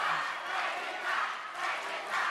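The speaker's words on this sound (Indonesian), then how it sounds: "Kami persilakan beri tepuk tangan yang meriah untuk paslon nomor urut 1 dan nomor urut 4." An audience at a televised election candidate debate cheers and applauds for the candidate pairs, a steady, moderately distant wash of crowd noise with swelling waves of cheering.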